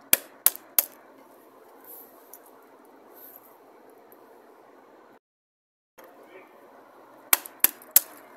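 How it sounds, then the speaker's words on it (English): Eggs cracked sharply against a hard surface, a quick burst of three knocks at the start and another cluster of four near the end, with faint peeling rustle in between and a brief silent gap. "Crack then peel eggs."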